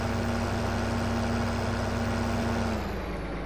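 A big Case tractor engine runs at a steady, loud, close idle on a farm at silage and wheat harvest time, a constant low drone with a humming tone that eases off near the end.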